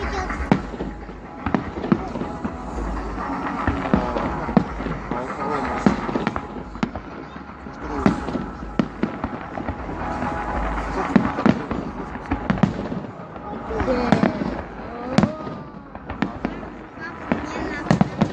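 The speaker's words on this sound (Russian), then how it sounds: "Салют" Steady volley of fireworks salute bursts, dense popping and crackling reports in quick succession with some louder booms, heard under ongoing conversation.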